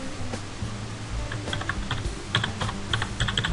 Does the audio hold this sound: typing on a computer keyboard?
yes